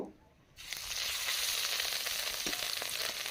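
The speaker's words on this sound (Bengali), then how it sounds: "এখন আমি মাছটা ভেজে নেব" Marinated catla fish frying in hot oil, a brief quiet moment then a loud, steady close sizzle that holds for the rest of the clip with faint stirring underneath, no voices.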